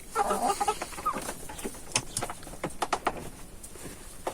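A group of chickens cluck busily up close while eating, with sharp little taps scattered among the clucks.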